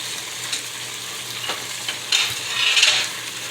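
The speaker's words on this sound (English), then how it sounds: "So you're just gonna fry it until that tomato comes down into a thick, thick sauce." Tomato curry with potatoes frying in a pan, a steady bright sizzle with occasional scraping stirs and a louder sputtering swell near the end, with no voices.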